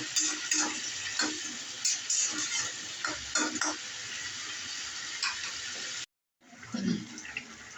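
Sarputi fish bhuna sizzles in a frying pan while it is stirred, giving a steady, close crackle with scraping strokes. The sound stops briefly near the end, then resumes.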